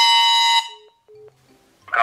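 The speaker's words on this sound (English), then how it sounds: "Is that an air horn?" Air horn blown into a phone during a call, one loud blaring blast lasting about half a second, followed by short electronic tones and a brief loud burst at the end.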